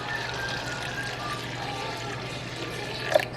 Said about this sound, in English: what I'm doing is adding some bottled water